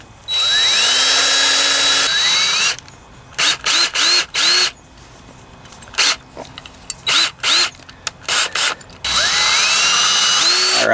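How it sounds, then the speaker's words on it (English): Power drill boring a small hole down through the center of a part from a tampered Briggs and Stratton twin-cylinder engine, whining in loud bursts with rising spin-ups, brief stops and repeated short trigger pulses. "I'm going to drill a small hole"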